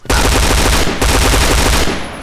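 Rapid automatic gunfire in the shooter video game Point Blank, loud and continuous bursts with a brief pause midway, no talking.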